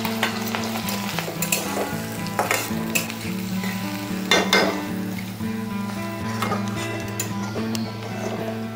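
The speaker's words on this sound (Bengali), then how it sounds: "এখানে 5টা কুচানো পেঁয়াজ বেরেস্তা করার জন্য কেটে রেখেছি, এগুলো এখন দিয়ে দিচ্ছি" Chopped onions fry in ghee for beresta, giving a steady sizzle with sharp crackles throughout. Ticking stir and pan clatter come and go, and a low constant hum sits underneath.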